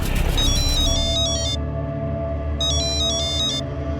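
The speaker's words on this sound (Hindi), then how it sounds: "उस दिन हमको फोन आया साहब" A phone ringtone chirps in two bursts of quick repeating electronic beeps, separated by a pause, over a low steady background rumble.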